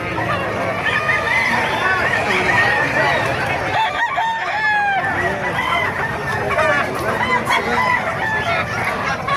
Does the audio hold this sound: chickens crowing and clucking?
yes